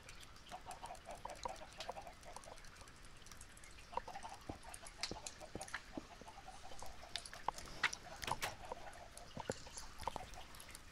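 Chicken clucking in the Minecraft video game, a series of soft, scattered clucks and clicks over a quiet background with no talk.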